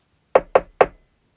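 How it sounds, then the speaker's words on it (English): Three firm knocks on a wooden door, evenly spaced over about half a second, close and clear with silence after. "She waited for a little while, and then she knocked again."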